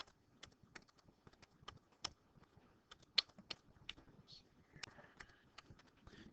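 Keys clatter on a computer keyboard in quick irregular bursts of sharp clicks, close and fairly quiet, with brief pauses between runs of typing.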